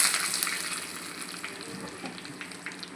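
Mustard seeds and curry leaves sizzle in hot oil for a Maharashtrian-style dudhi sambar tempering, a steady close crackle with scattered pops throughout and no talking.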